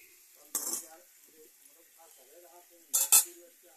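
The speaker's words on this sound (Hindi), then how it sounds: "जीरा मिर्च तड़का दे है" Sharp sizzling bursts as cumin and chili hit hot oil for a tempering, once early and twice more near the end, with quiet kitchen sounds and faint talk between.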